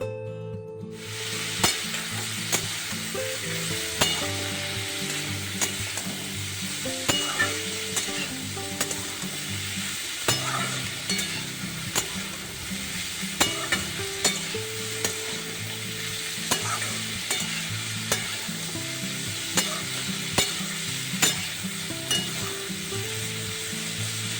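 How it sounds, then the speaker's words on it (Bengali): Spices and vegetables fry in a wok for chowmein, giving a loud, continuous sizzle punctuated by repeated clattering stirs and scrapes of a utensil against the metal. "মশলাটাকে ভেজে নিয়ে তারপরে সবজিগুলোকে ভাজতে দিয়েছি কড়াইয়ে"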